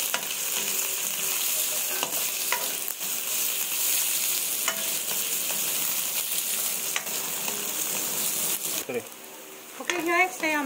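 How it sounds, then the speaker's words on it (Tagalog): Garlic, onion and ginger sauté in a pan as the base for a coconut-milk fish dish, with a loud, continuous close sizzle and occasional stirring scrapes. It eases briefly near the end, when a voice comes in. "Igigisa muna natin ang ating bawang"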